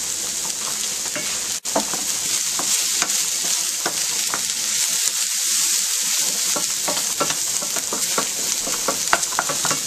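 Ground beef sizzles steadily as it browns in a pan for Greek pastitsio, with occasional stirring scrapes and one sharp knock near the start.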